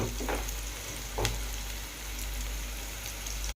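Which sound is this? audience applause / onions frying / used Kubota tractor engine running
onions frying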